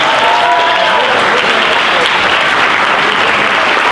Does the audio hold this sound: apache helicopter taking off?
no